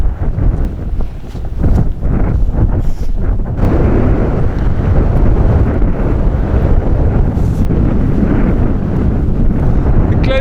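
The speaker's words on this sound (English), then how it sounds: "The glen's like a wind tunnel, just funneling it all down" Strong wind funneling down a Scottish glen near Sron Uladail, a loud continuous roar buffeting the microphone with gusty swells throughout.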